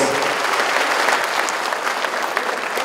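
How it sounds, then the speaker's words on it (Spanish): Warm applause for a community at the opening of a regional Mixe sports championship, a steady wash of many hands clapping, fairly loud and continuous. "los calurosos aplausos"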